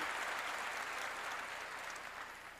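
Church congregation applauding during a sermon, a soft, distant wash of clapping that holds steady and fades slightly at the end.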